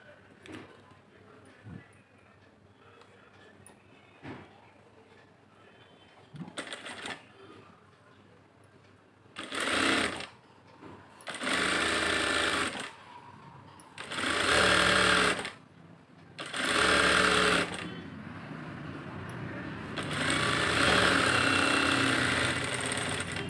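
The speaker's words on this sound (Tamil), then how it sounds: "வாங்க நம்ம தைக்கலாம்." Sewing machine stitching the lining of a blouse, sounding in several loud bursts of rapid mechanical whirring, each a few seconds long, separated by pauses with a quiet voice and small handling clicks.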